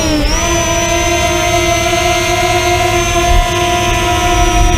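An Eachine EX4 drone lifting off on auto takeoff gives a loud, close, continuous motor whine whose pitch climbs sharply at the start and then holds steady.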